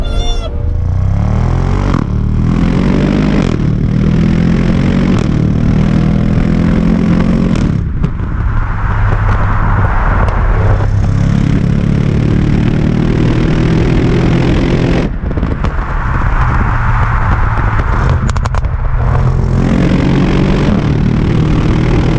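Audi RS6 Performance engine in dynamic drive mode, loud and close, roaring and revving in repeated surges with sharp breaks between bursts, no talking.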